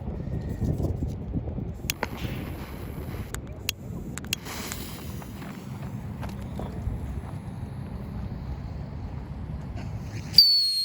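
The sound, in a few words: whistling moon traveler firework, made in China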